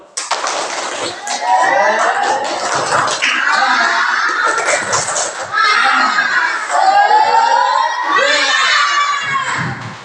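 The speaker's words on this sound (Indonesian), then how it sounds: "Tepuk tangan semangat." Children in a classroom shout out the spirited clapping chant together, loud rhythmic group voices in rising and falling phrases with clapping mixed under them throughout.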